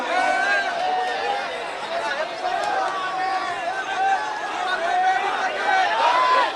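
A huge crowd packs a political rally where a chief minister ends a hunger strike, with dense murmuring chatter and a few shouts carrying across the gathering at a steady, loud level.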